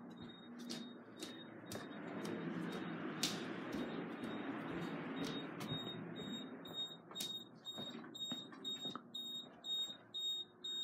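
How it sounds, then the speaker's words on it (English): Faint background rumble, then a steady series of high electronic beeps repeating at a regular pace from a fire alarm panel in supervisory alarm, fairly quiet. "this monitor module went into alarm, and I don't know if you can hear it"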